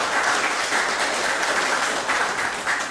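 Visitors' gallery applause in Belize's House of Representatives, an even wash of many hands clapping at a moderate distance, steady throughout with no voices over it.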